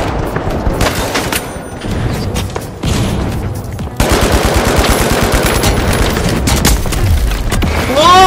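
Dense automatic gunfire rattles loud and close in the shooter game The Finals, rapid bursts layered with booms and impacts in a continuous barrage.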